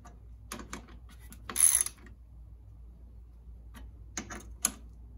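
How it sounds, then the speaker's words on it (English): Screws being tightened during installation of a Honda shifter kit with Hi/Lo range: a few faint mechanical clicks and ratchet-like bursts, with one louder cluster near the start and short ticks later, otherwise quiet. "Once those are snug, you can tighten down these two."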